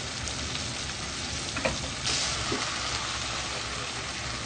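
Tinda and dal roast in a pan with a steady, close sizzle and frying hiss that runs throughout, broken by a few soft stirring scrapes and no talk.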